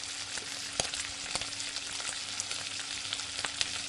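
Chopped vegetables stir-fried with onions in a pan for veg chowmein, a steady close sizzle with occasional sharp clicks of a utensil against the pan.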